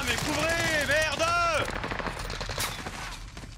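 Gunfire in the video game Warzone, a rapid automatic burst over continuous battle noise while players talk over it.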